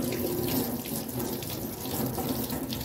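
Water runs steadily from a tap into a sink, a continuous close splashing stream with no talking.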